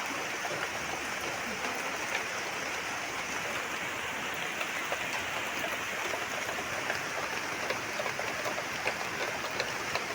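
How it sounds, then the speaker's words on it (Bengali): Heavy rain pours outside in a continuous, dense hiss, steady and fairly loud from start to finish with no voices over it. "আর বাইরে দেখো কি পরিমাণে বৃষ্টি হচ্ছে"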